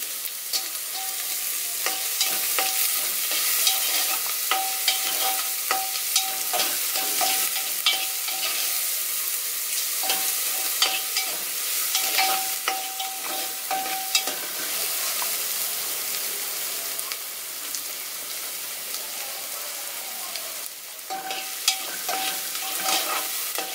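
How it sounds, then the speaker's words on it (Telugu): Seasoning fries in oil in a pan on low heat for a bottle gourd and tomato curry, with a steady hiss and sizzle and frequent scraping stirs throughout, close and even, without speech. "ఇవి కొంచెం ఒక 5 నిమిషాలు వేగుతాయి."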